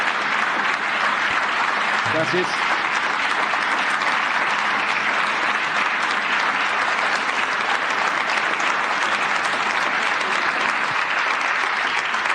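Sustained audience applause, a dense steady roar of many hands clapping at constant loudness throughout, with a voice briefly speaking over it.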